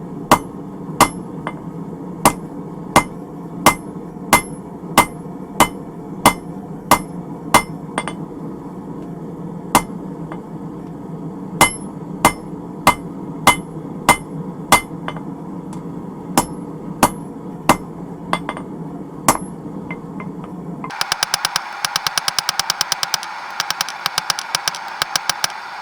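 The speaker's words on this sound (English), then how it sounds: "We're actually going to forge in our taper here on either side." Hand hammer blows forging a taper into a steel railroad spike, shaping it for a garden trowel: a steady run of loud, sharp ringing strikes about one per second, then a rapid burst of lighter, faster taps near the end.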